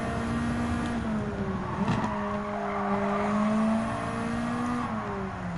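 A Nissan Silvia race car in Gran Turismo 7 drones loudly and steadily, with a brief dip and recovery in revs partway through and light tire squeal, close up, with no voices.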